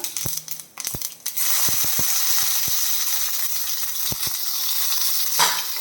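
Half a teaspoon of mustard seeds crackle in hot oil while tempering a chutney, with a steady sizzle broken by sharp, scattered pops at close range.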